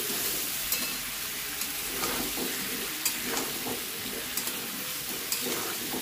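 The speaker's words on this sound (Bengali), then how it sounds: "হলুদ আর লবণটা দিয়ে সুন্দর করে নেড়ে চেড়ে আলু আর কুমড়োটাকে ভেজে নেব" Diced potato and pumpkin fry in a pan with turmeric and salt, a steady close sizzle broken by the scrape and clack of a spoon stirring the pieces every second or so, with no voices.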